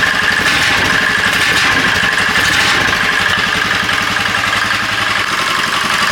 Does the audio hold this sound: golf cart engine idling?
yes